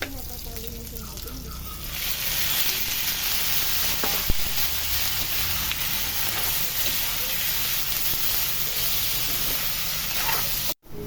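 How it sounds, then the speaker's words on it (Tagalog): Snails sautéing in a pan with garlic, onion and ginger, a steady loud sizzle and hiss that runs throughout, with a voice speaking over it. "Igigisa natin siya guys sa bawang, sibuyas at luya."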